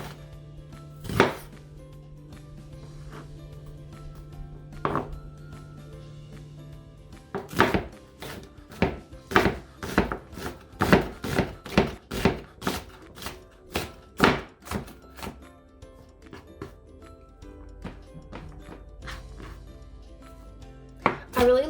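Knife chopping onions on a cutting board while making spaghetti: a few isolated chops early on, then a long run of steady, fairly loud chops with short pauses between them, close by and without talk.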